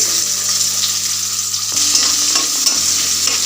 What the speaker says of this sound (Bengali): পেঁয়াজটা আমি 1 মিনিটের মধ্যে হালকা করে ভেজে নেব।